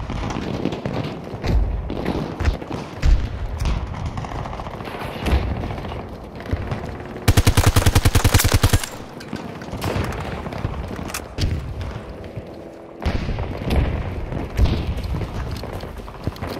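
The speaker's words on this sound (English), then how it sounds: "Grenade out! Take cover!" Battlefield game combat: a loud, rapid burst of automatic gunfire cracks out for about a second and a half amid rumbling battle noise, with muffled thuds and background din before and after.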